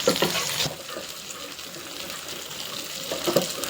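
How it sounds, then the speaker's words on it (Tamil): Pieces of chicken roasting in a pan give a steady frying hiss, with clattering turns near the start and the end. The sound is close and moderately loud, with no talking. "அப்படியே சும்மா ஃப்ரை ஆகிடுது பார்த்தீங்களா சிக்கன்னு"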